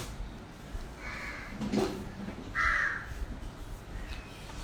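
A crow caws several times, a few harsh rasping calls spaced a second or so apart, moderately near but fairly quiet against a faint steady background hiss.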